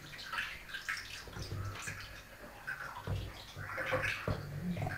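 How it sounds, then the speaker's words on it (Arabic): Water drips and trickles off couscous draining in a strainer, a soft, continuous wet patter with a few small splashes, fairly faint and close. "خليه يقطر من الماء"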